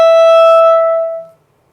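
A single loud clarinet note with a bright, buzzy tone, starting strongly, held for about a second, then fading out.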